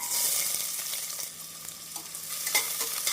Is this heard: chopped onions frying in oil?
yes